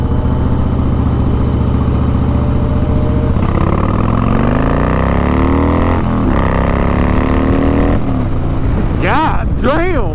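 A Harley-Davidson Fat Boy cruiser motorcycle accelerating on a first ride, its loud engine droning nonstop with pitch climbing through gears and dipping at shifts, mixed with steady wind rush.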